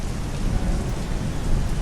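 Steady rain pours down in a dense, continuous hiss with a low rumble of thunder beneath, heard alone with no voices throughout.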